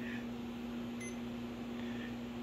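A steady electronic tone holds throughout, a continuous continuity beep from a multimeter testing a Honda ATV 4x4 over faint background hum.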